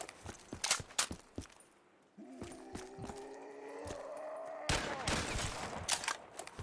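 Gunfire in the video game Rimworld, a string of sharp shots in bursts, then a sustained tonal whine and more rapid crackling shots, moderately loud and close.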